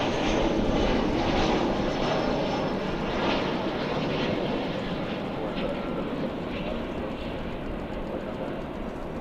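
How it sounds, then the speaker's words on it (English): An Airbus A320 arriving at Dallas/Fort Worth airport, heard as a loud, steady broadband jet roar that holds throughout with a slight fade toward the end. "It's an Airbus A320 coming in from Oklahoma City."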